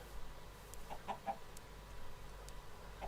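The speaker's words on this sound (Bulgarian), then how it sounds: "кокошки чувам от някъде" Chickens clucking in the Minecraft video game, a few short clucks spaced apart, fairly faint over low background noise.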